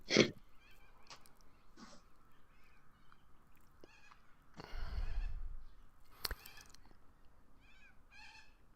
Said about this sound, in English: Because I live in a place where parrots fly overhead.